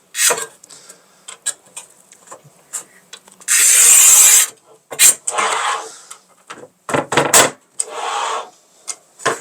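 A manual tile cutter scores a glossy porcelain stoneware tile about 10–11 mm thick. Short rubbing and scraping sounds lead to one sustained harsh scoring stroke and a few sharp knocks, with people talking between them.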